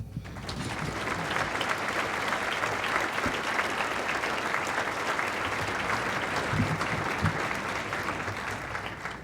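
Sustained applause from an audience at a 2017 excellence awards event, welcoming Dr. Brian Grove to the stage; steady, dense clapping fills the room throughout at an even level.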